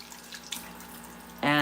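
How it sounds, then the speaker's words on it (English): A kitchen tap is turned on over a regular sink in a mountain home. After a quiet room hum, a loud, steady gush of running water starts abruptly near the end. "Water comes out."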